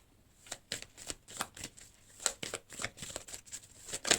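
Tarot cards being shuffled and drawn, a run of crisp, rapid card riffles and flicks in short bursts, close and fairly quiet with no talking.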